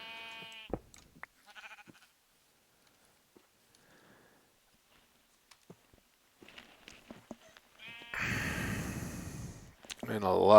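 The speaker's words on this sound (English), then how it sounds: "Yeah, sheep." Sheep bleating in the video game Minecraft, a few short bleats scattered among faint footsteps and game sounds, with a louder wavering bleat near the end.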